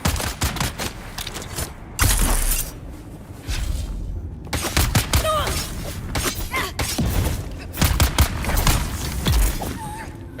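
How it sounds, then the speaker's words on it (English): Gunfire in the Dune Awakening video game rattles in repeated bursts of shots aimed at the player, with sharp cracks and thuds spread across the scene and some impacts close by. "All that shooting at me"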